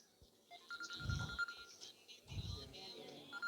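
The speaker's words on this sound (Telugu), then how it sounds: "ఫోన్ వచ్చింది." A phone rings during a comedic New Year skit, a repeated electronic ringtone tone running through the moment, fairly faint and mixed with low background voices and room noise.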